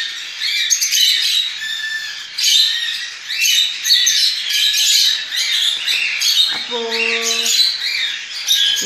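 Lovebird, cockatiel and budgie chicks squawk at feeding time, a dense, loud, continuous chorus of shrill begging calls close by, with a brief buzzy tone near the end.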